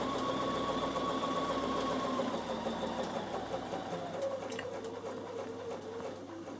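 A Bernina sewing machine stitching a fabric card holder, a steady close mechanical whirr with a rapid needle rhythm that slows and softens toward the end.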